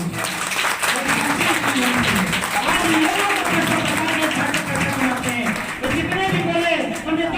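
An audience clapping at a business seminar, a dense and loud burst of applause lasting several seconds, with voices talking underneath and through it.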